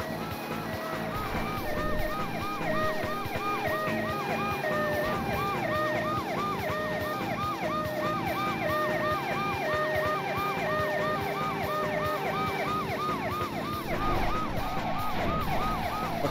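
An ambulance siren in the driving game Driver 2 wails in a steady, fast repeating cycle under a constant engine drone, loud and close throughout.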